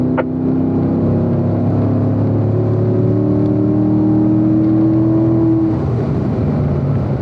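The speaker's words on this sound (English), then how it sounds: "Alright guys, fourth gear, let's open them up again." Corvette at Spring Mountain racing school pulling hard in fourth gear on the track, a loud steady engine drone climbing in pitch for several seconds, then easing off near the end.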